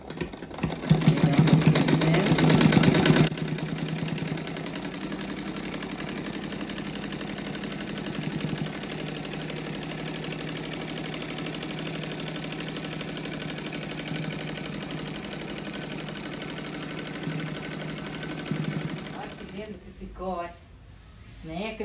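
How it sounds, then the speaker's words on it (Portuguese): A domestic sewing machine runs a seam on a patchwork quilt, a loud burst of stitching for a few seconds followed by a long quieter motor hum, while someone talks throughout. "Agora eu vou fazer mais uma costura igual eu fiz do lado, né? Ó, encosta o pé da máquina na primeira costura."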